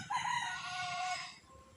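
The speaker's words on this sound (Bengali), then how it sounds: "আমি এপাশে কথা বলতেছি ওই পাশে মোরগ ডাকতেছে ছাগল ডাকতেছে" A rooster crows once in a village, a clear, drawn-out call lasting over a second that trails off at the end, fairly close with a little farmyard background noise.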